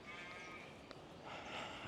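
A sheep bleats faintly in the distance, a drawn-out wavering call over steady outdoor background noise.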